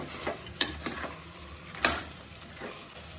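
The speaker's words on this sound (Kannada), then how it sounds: "ಈಗ ಇದಕ್ಕೆ ಶುಂಠಿ ಬೆಳ್ಳುಳ್ಳಿ ಪೇಸ್ಟು ಈಗಷ್ಟೇ ಮಾಡ್ಕೊಂಡಿದ್ದು ಇದನ್ನು ಹಾಕ್ಕೊಂಡು ಮಿಕ್ಸ್ ಮಾಡ್ತಾ ಇದ್ದೀನಿ" Ginger garlic paste being stirred into an onion-tomato mixture for mutton curry, giving a soft sizzle under a few sharp scrapes and clicks of a spoon against the pan, close and fairly quiet, with no talking.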